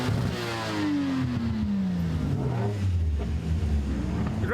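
A 1990s Japanese performance car engine revs and runs loudly up close, its pitch sliding steadily downward as the revs fall, over rough mechanical noise.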